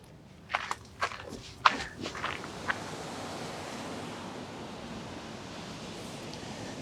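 Several close footsteps crunch on a foggy beach for the first few seconds, then a steady wash of ocean surf and wind carries on alone.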